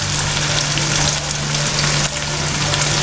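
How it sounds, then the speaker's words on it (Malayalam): Kerala-style nadan chicken curry masala with curry leaves is sautéed in a pan with a loud, dense, continuous sizzle close by, steady throughout with faint stirring underneath. "ഇനി നമുക്ക് നല്ലതുപോലെ വഴറ്റിയെടുക്കാം."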